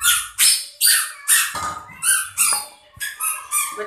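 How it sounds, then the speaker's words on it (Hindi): Children shouting and squealing loudly in a home kitchen while a meal cooks, bursts of high excited voices in quick repeated waves. "बच्चे बहुत शोर पा रहे हैं"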